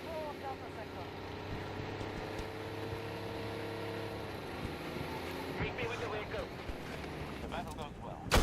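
Tank from the video game Battlefield 2042 driving across the battlefield, a steady low engine rumble and drone with tonal whine, continuous throughout, with someone talking over it and a louder burst at the very end.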